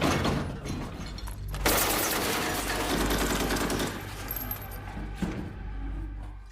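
Terrorists open fire in a film scene set during the Hotel Mumbai attack, with sustained rapid gunfire bursts and dense crackling, loud and continuous over several seconds, fading slightly near the end.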